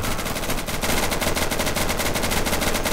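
Sustained automatic gunfire from the video game Insurgency, a steady dense rattle of rapid shots filling the whole stretch at constant loudness with no talking over it.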